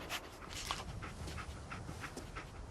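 Dogmeat, the dog companion in Fallout 4, panting steadily and close, with quick rhythmic breaths and faint whimpers over a low game background hum.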